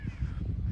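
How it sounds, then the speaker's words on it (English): A bird calls briefly and harshly over low wind rumble on a beach, a short crow-like caw in an otherwise quiet outdoor setting. "You can hear the birds singing."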